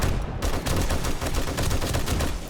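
Rapid gunfire at zombies in 7 Days to Die, a dense, loud run of close shots in quick automatic bursts continuing throughout, with no talk.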